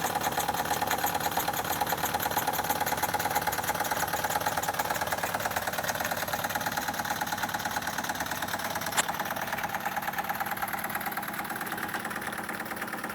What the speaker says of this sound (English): Both engines run exceedingly well.